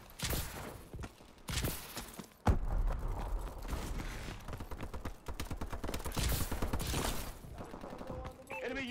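Gunfire in an online shooter game clan match, heard as repeated bursts of loud shots and rapid automatic fire with mechanical clicks and movement noises between them, fairly close, under some brief talking.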